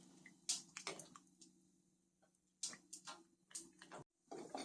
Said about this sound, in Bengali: আমটা আমি জল দিয়ে চটকে নিচ্ছি।